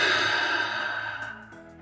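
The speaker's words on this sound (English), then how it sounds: "take a big deep breath" One big, deep breath out, a long breathy exhale heard close and alone that gradually fades over about two seconds.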